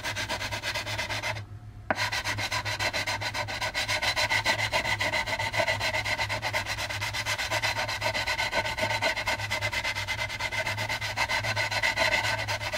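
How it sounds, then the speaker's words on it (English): Sanding a plastic AMT U.S.S. Enterprise model kit part with a cross-sanding motion, giving a steady, continuous close rubbing scrape with a brief pause near the start, no voices. "Let's try the cross sand."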